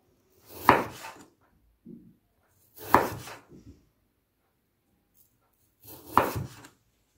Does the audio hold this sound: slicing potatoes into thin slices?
yes